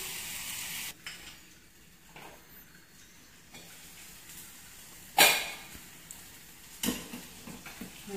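Sambar with tomatoes and spice powder simmers in a pan on the stove, giving a soft, quiet bubbling sizzle under occasional small clinks and taps, with one sharper knock midway.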